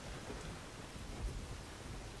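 Video game thunderstorm with rain pouring steadily and a low thunder rumble underneath, faint and continuous without talk.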